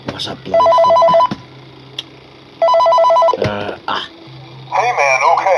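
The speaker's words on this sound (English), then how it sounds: "What's up, bloody phone?" A telephone rings in two loud bursts of an electronic trilling bell, a pause between them, with a voice speaking before and after in a cramped workplace setting.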